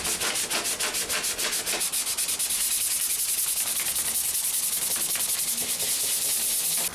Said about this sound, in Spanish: El primer paso fue lijar desde más grueso a más fino